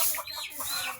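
Chickens in a poultry shed housing about a hundred large birds, giving quick overlapping clucks close by in one brief burst.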